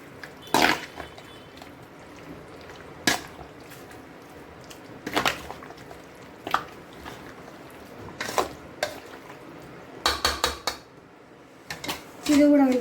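Chicken curry ingredients are stirred in a cooking pot, with a utensil clanking against the metal in scattered, fairly close knocks and scrapes over a quiet kitchen background.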